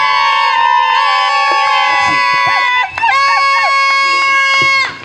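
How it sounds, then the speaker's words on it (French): Guests at a civil wedding ceremony break into loud, high-pitched ululating cheers and shouts, sustained trilling voices layered together close by, with a brief dip before resuming. "Les acclamations, merci."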